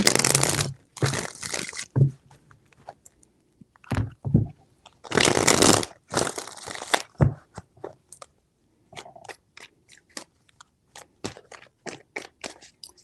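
Tarot cards being shuffled in three bursts of crisp riffling and shuffling noise, close and fairly loud, followed by scattered soft taps and card flicks as they are laid out.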